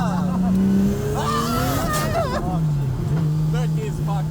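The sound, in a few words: car driving with tires squealing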